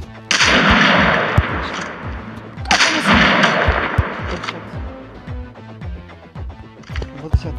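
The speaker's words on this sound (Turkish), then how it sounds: "Ya o silah mı sıkıyor bana?" A sentry gun in a Call of Duty match fires in loud, close bursts, echoing heavily, followed by scattered single shots and distant gunfire.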